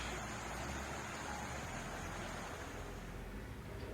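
Steady rushing water of a mountain stream at a natural swimming hole, a continuous broadband wash with no breaks, fairly soft and close, with no voices.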